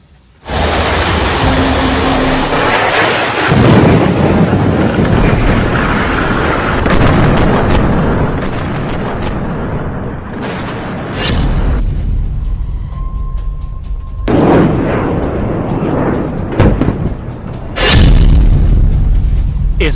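Heavy explosions from Israeli army strikes destroying a Hezbollah building, loud booming blasts and rumbling debris roar filling the scene, with a few sharp bursts near the end and no talk.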